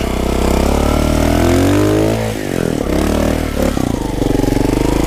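A small trial motorcycle engine runs loud and close, its pitch rising and dipping as the throttle is blipped and released.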